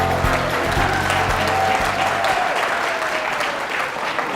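Studio audience applauding at a breakfast talk show in a community center, a loud, full burst of many hands clapping close by that continues steadily for about four seconds.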